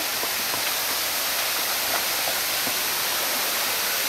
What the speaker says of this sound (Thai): โอ้น้ำตกไทรโยกน้อยมีประมาณนี้แล้วฮะ